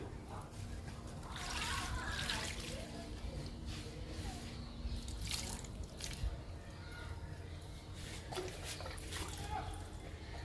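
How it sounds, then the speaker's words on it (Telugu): Liquid fertilizer poured from a mug onto indoor money plants, a soft trickling and splashing of liquid into potting soil, fairly faint, with intermittent drips. "లిక్విడ్ ఇస్తున్నాను"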